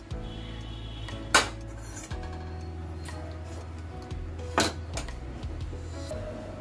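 A spoon scrapes and knocks against a cooking pot while stirring after hot water goes in for chicken curry, two sharper metallic clinks standing out over a low steady background hum, with no talk.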